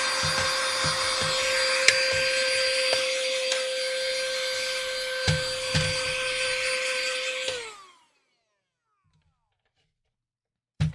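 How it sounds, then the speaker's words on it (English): A vacuum cleaner runs steadily and close while an Xbox 360 disk drive is cleaned, with small knocks and rattles over the drone, then it shuts off at about eight seconds into near silence before a short final clatter. "There's going to be a lot of just vacuuming along the way."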